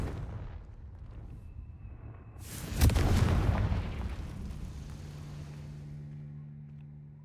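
A Confringo fire spell blasts in Hogwarts Legacy, a sudden loud booming explosion with a sharp crack that rumbles and fades into a low lingering tail over quiet game ambience.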